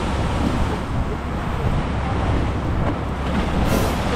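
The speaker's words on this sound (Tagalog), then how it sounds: "ayan na naman ang mga alon" Sea waves roll in a steady, dense broadband rush out on open water, loud and close and mixed with heavy wind buffeting on the microphone, with no clear individual breaks.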